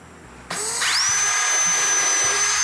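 A power drill drives a screw while building a spline jig. After a short quiet moment the motor whirs up loud and close and holds a steady, high whine until the end, with no talk.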